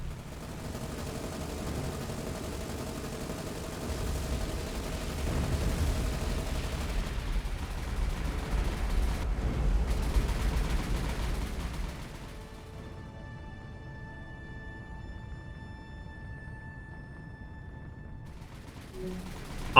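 Sustained, rumbling naval gunfire and explosions from the War on the Sea Pacific campaign video game keep up for about twelve seconds before easing into a quieter, steady background din.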